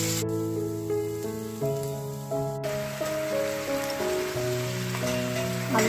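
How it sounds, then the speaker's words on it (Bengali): Fish fries in a frying pan in a home kitchen with a steady, crackling sizzle that runs throughout, under soft background music. "মাছ ভাজা চলছে।"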